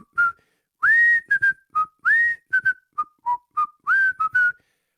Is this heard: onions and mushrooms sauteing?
no